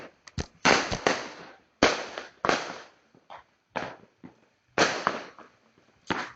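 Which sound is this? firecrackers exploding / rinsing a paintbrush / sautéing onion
firecrackers exploding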